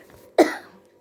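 One sharp, close cough breaks the quiet during a spoken Hindi Vedanta discourse, then trails off into a short throaty rasp.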